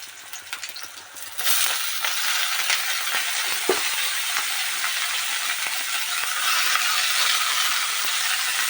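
Greens and chopped potato sizzle in a pan of hot oil, a steady, dense hiss that jumps louder as the food goes in, with faint scrapes and clicks.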